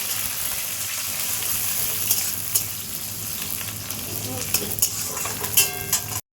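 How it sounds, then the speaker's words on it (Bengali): Onions frying in hot tempering oil with cumin seeds for egg dal, a steady, close sizzle with crackling pops and occasional stirring scrapes throughout. "দিয়ে এবার ফোড়নে একটু পেঁয়াজ দিয়ে দিই।"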